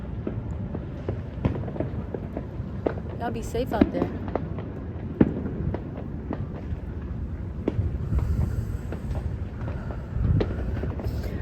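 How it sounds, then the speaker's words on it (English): Fireworks go off outdoors in scattered sharp bangs and crackles, irregular and moderately distant, over a steady low rumble while a person talks throughout. "as the fireworks are coming about, and you know it's really really loud"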